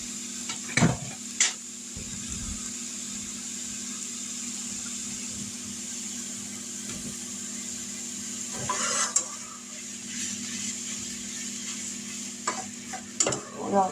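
Hamburger meat and onions sizzle steadily in a pan on the stove, with occasional scrapes and clinks of a utensil stirring through them.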